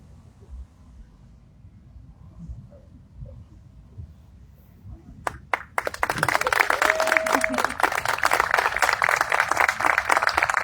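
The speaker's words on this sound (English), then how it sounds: "another round of applause for Chief CW3 Ryan" An audience at a US Army retirement ceremony bursts into sustained applause after a stretch of quiet room murmur, with loud, dense clapping filling the hall from the middle of the clip to the end.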